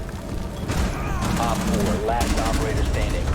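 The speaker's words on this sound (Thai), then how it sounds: "ยิงจังเลยยิงจังเลย" Rainbow Six Siege gunfire: loud, rapid automatic bursts rattle close by in quick succession over a dense rumble, with a voice speaking excitedly over the shooting.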